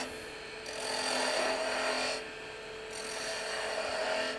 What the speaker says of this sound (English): I'm going to start off with a 1/2 inch spindle gouge